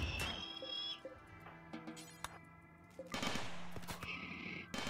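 Turrets in the video game RimWorld fire in sharp scattered bursts, some closely spaced, mixed with other game effects and tones at moderate loudness.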